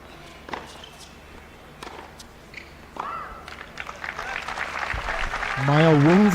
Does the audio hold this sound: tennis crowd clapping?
yes